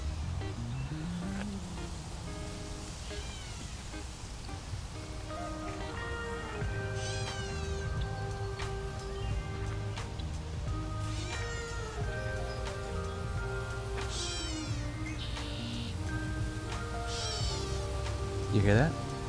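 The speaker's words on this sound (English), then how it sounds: "That's a catbird." Catbird calling in a marsh, repeated mewing and chattering phrases from a short distance over steady outdoor background noise.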